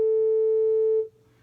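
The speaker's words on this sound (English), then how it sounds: "what I have is a little tone generator" A small tone generator produces a steady, pure sine tone that holds loud and unbroken for about a second, then cuts off to near silence.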